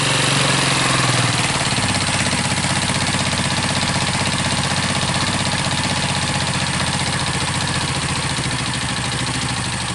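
Yamaha Lexi scooter engine idling steadily, a loud, close, continuous mechanical hum with even pulsing throughout and no talking.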